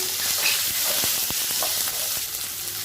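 Dried red chillies and cashews frying in hot oil in a pan for an egg curry, a bright continuous sizzle close up with repeated sharp scraping and stirring clicks.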